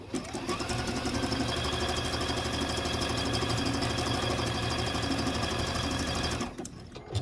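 A sewing machine stitches bias tape down onto quilt fabric in a steady, fast, loud mechanical run for about six and a half seconds, then stops abruptly near the end.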